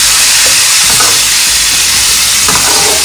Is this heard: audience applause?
no